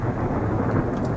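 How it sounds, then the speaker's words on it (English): A heavy thunderstorm rumbles with continuous loud, low thunder, a dense broadband roar filling the whole moment with steady rain hiss underneath and no voices. "Now this is a thunderstorm."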